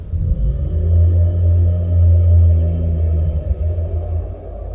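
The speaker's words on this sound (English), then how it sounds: "At that moment, a chilling thunderclap echoed through the place." A loud, deep rumble of thunder rolls on for several seconds in a horror story, heavy and sustained with no voices, then fades slightly at the end.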